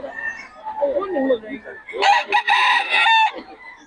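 A Boston Sweater gamecock rooster lets out a loud, close crow at a market, preceded by clucking, with people talking nearby.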